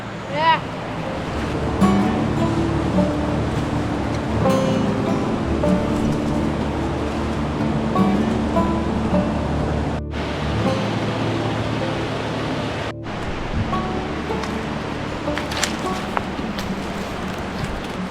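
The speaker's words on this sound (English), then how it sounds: "This is the bottom of the falls, kind of river that eventually goes into the lake that we're staying at." River water rushes steadily at the bottom of a backcountry waterfall in spring, a loud continuous roar that fills the whole stretch, with faint voices mixed in.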